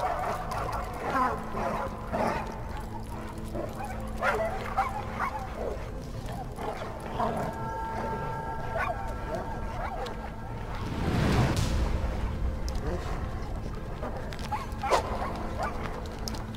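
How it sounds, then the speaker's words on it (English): Dogs bark repeatedly in the survival video game Die Young, with scattered barks, yips and whimpers over a continuous game soundscape, some near and some more distant. "Fucking dogs, would you shut up about barking?"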